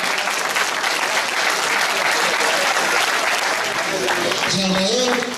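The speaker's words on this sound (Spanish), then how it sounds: "Un aplauso, Nicolás." A crowd at the finish of a mountain race in the Picos de Europa claps steadily in loud, sustained applause, and a voice speaks over it near the end.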